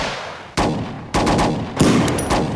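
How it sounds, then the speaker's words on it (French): Gunfire aimed at police cars in a film scene, with loud, close bursts of several sharp shots in quick succession that repeat in clusters and stand alone without talk. "je crois que c'est des flics sur qui on tire"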